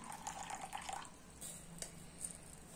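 Lukewarm water poured into a container to activate dry yeast for wheat-flour pizza dough: a faint, steady close trickle and splash of liquid with no voices.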